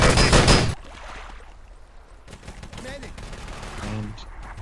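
In the game Wolfenstein: Enemy Territory, a loud burst of MP40 submachine-gun fire opens, then drops to scattered distant shots and clatter, with a voice talking briefly underneath.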